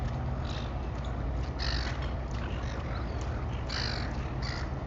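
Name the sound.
seagulls calling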